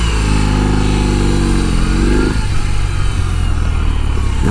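A BMW R18 1800cc boxer motorcycle engine revs up close, a deep throbbing rumble that climbs in pitch and then drops back to a loud, lumpy idle.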